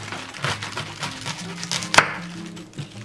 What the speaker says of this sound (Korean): 양배추는 반을 갈라서